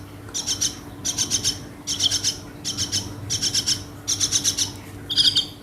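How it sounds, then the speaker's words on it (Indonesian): Young Nias hill myna (jalak belong) being hand-fed, giving a series of about seven bright, rapid chattering calls in regular bursts, close and fairly loud over a faint background hum. "Ini jalak nias teman-teman ya, atau bisa kita sebut biasanya jalak belong."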